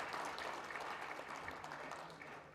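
Faint, steady audience clapping fills a lecture hall at a memorial lecture event, a soft continuous patter heard from a distance with no voices over it.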